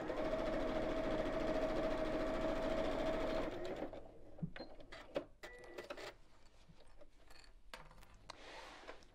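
A sewing machine runs steadily, stitching around a fabric ladies' evening bag at a 2.2 stitch length, a close, even whirr for several seconds before it stops and gives way to scattered small clicks and handling noises.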